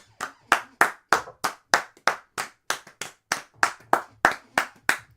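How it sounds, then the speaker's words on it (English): At a live radio show, a crowd claps together in a slow, even unison rhythm, about fifteen sharp, close claps at steady intervals with no talking. "I think that deserves an applaud."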